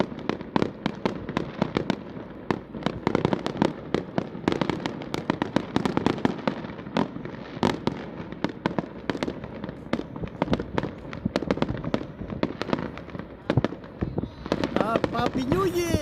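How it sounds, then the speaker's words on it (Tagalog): Fireworks burst over Portland on New Year's, a dense, loud barrage of overlapping cracks and booms rolling on without pause, with voices faintly audible beneath. "Nag-start na po ang fireworks sa"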